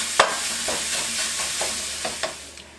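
Pork sausage fries in a pan with a steady sizzle, punctuated by several soft scraping stirs of a utensil against the pan, close up and with no talking.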